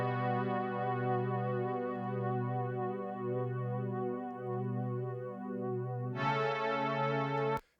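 Sustained synth-like chord track played dry, without the Valhalla Space Modulator chorus, from a song; steady harmonic tones hold loud and alone, brightening with a fuller chord near the end before cutting off.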